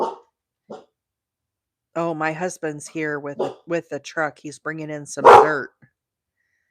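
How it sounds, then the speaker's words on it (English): A guard dog barks a few times in the background during an indoor crochet session while someone talks over it, the barks sharp and fairly distant. "Sorry about the barking, y'all. We got the guard dog on guard."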